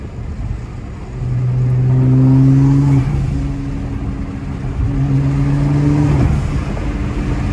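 A 700whp Alpha 7 R35 Nissan GT-R revving and accelerating, a loud, close engine note rising in pitch through two sustained pulls separated by a brief shift, with no voices.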